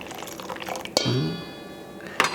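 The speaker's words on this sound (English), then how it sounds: "So I'm going to add the boiling water first." Boiling water pours briefly into a bowl of molasses mix with eggs and baking soda for shoo-fly pie, a short splashy gurgle framed by clinks of utensils against the bowl.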